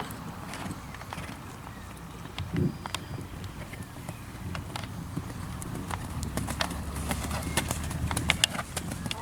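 A young horse canters during jumping training at a riding school, its hooves clip-clopping in a steady rhythm, moderately close, over open arena ambience.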